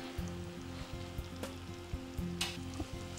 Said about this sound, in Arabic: هناخد الفراخ بتاعتي، ونبتدي نحمرها